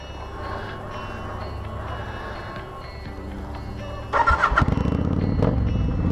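A Kawasaki Vulcan 900 motorcycle cranks over with a steady low whir, then catches and fires up into a loud, throbbing idle.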